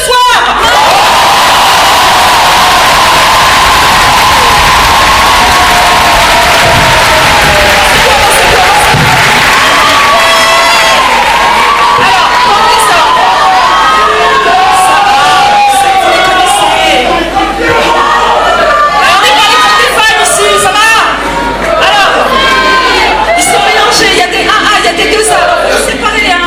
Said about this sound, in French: faire un tonnerre d'applaudissements aux comédiens